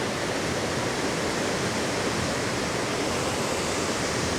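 A waterfall and river in wet New Zealand highlands make a loud, constant, dense rush of falling water. The broad roar stays steady from start to finish, and no voices are heard.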